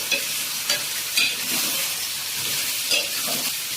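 Goat intestine (mutton boti) curry with browned onions is stirred as it fries in a pan, giving a steady close sizzle broken by short scraping stirs.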